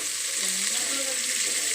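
Bitter gourd pieces fry in hot oil with salt for a tangy tamarind curry, a dense, continuous close sizzle and crackle filling the whole moment.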